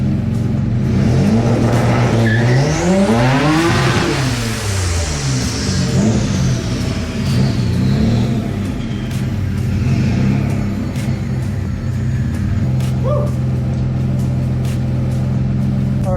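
A twin-engine Mazda MX-3 launches on a two-step with the clutch dropped, revving hard with rising and falling pitch sweeps, then holding a steady loud drone, close and continuous throughout.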